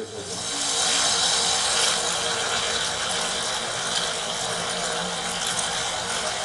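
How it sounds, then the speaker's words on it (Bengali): Water boils in a pot for liquor tea, giving a dense, steady bubbling roar that stays close and constant throughout, with no voices. "দেখে নিন, জলটা ফুটতে শুরু করে দিয়েছে ভালোভাবে।"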